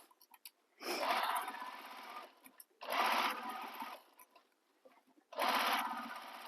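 A sewing machine stitches the lining seam of a handmade bag in three sustained bursts of rapid mechanical whirring, separated by short pauses, close and clear with no talking.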